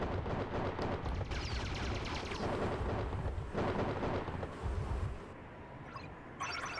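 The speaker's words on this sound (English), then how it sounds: "Should be able to just hit them with the cannons" Cannon fire from the strategy video game Swarm Assault: dense, continuous rumbling booms and explosive blasts, loud and layered, easing off near the end with a few faint higher clicks.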